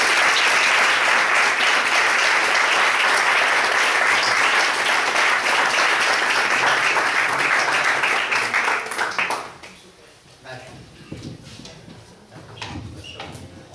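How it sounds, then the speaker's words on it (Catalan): Sustained applause from an audience, loud and dense for about nine seconds before fading to scattered claps and room noise. "jo us demanaria per aquestes tres persones un aplaudiment"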